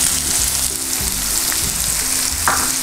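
Turmeric and spices fry in hot oil in a pan while making Maharashtrian baingan bharta, a loud, continuous close sizzle with no speech.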